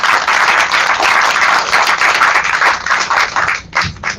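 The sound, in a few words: round of applause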